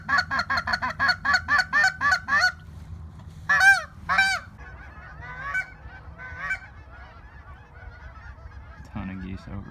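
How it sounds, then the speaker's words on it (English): A flock of geese honks overhead during a duck hunt, with a rapid string of loud calls followed by scattered, fainter honks and a low rumble at the end. "Ton of geese over us."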